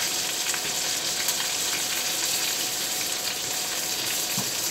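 Sole fillet cooking in a hot pan, a steady even sizzle and crackle of frying fish that holds constant throughout without pauses.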